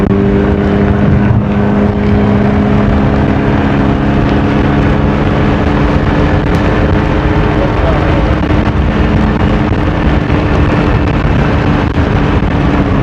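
A Honda Vario 160 scooter engine drones steadily up close, a loud constant hum with steady low harmonics and wind rush as the bike cruises, with no pauses or revving swings.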